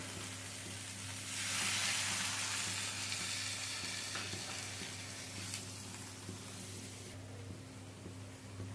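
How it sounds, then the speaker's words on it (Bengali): Water poured into a hot pan of shrimp and mixed vegetables, a loud hissing sizzle surging up and then settling into steady frying crackle with faint stirring clinks, over a constant low hum. "এখানে 2 কাপ মতন জল দিলাম।"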